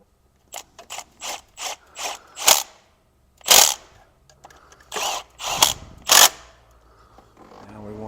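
A hand ratchet tightening timing chain guide bolts on a 2003 Saturn Vue's GM 2.2 Ecotec engine, giving a quick run of sharp clicking strokes, then a few slower bursts of clicks up close.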